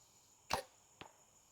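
An arrow is released from a hunting bow with a sharp snap, and a fainter thud of it striking the target follows about half a second later, with no talk.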